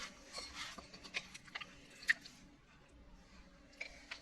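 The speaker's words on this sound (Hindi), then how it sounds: "मुझे हाथ से इसे मिक्स करना अच्छा लगता है, इजी लगता है, इसीलिए मैं हाथ से इसे मिक्स कर रही हूँ।" Chicken pieces mixed by hand with marinade spices for achar gosht, giving soft, wet squishing and squelching in irregular bursts, faint and close.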